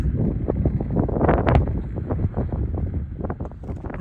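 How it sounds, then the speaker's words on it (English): Strong, rough gusting wind near the summit of Pikes Peak on a November mountain hike, a steady buffeting roar with rustling surges across the whole clip, no voice. "the mountain's blocking the wind a little bit, but it's still rough."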